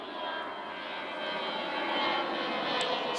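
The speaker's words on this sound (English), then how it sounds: "Sorry about the aeroplane noise." A broad, steady roar of an airplane passing overhead, a distant engine rumble that swells slightly and holds.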